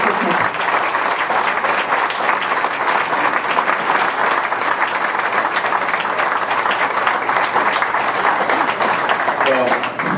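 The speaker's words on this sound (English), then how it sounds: "we owe him a big round of applause" A gathering at a Catholic school chamber coffee breaks into long, loud, dense applause that holds steady for several seconds, with voices mixed in under the clapping.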